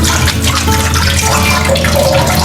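Coriander leaves are rinsed under a running kitchen tap. The water gushes loudly and steadily throughout, with small shifts in splash as the leaves move under the stream.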